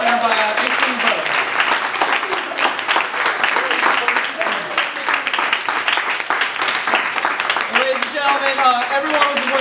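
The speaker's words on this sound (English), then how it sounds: "So a big round of applause." An audience at a school board election results announcement breaks into loud, sustained applause for the winning candidate, dense clapping close by with cheering and voices mixed in across the whole stretch.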